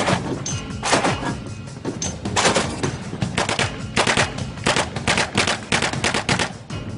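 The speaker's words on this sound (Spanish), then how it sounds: "la siguiente arma que probaremos será la NSVP." An NSVP heavy machine gun fires in repeated loud bursts of rapid, booming shots. The bursts are separated by short gaps, with no speech.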